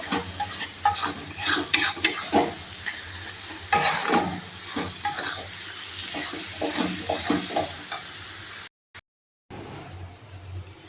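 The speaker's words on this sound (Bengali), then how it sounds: "আচ্ছা, মশলাটা একটু ভালো করে কষিয়ে নিই" A spice paste of coriander, cumin, chili and turmeric powder stir-fried in a pan for chicken kosha, with a steady sizzle and repeated scraping strokes of a spatula. It cuts out briefly near the end before resuming.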